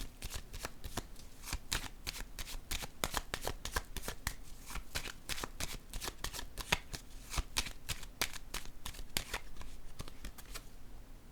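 Playing cards handled and laid down on a table during a card reading, giving a rapid run of crisp riffling flicks and snaps, close and steady throughout with no talk.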